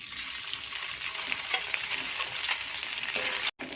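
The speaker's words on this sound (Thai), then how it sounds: "น้ำมันร้อนแล้วก็เอาสามเกลือที่ตำไว้ลงไปผัด" Steady loud sizzling of pounded garlic, coriander root and pepper paste stir-frying in hot oil in a wok, continuous crackle with faint scraping, cutting off abruptly near the end.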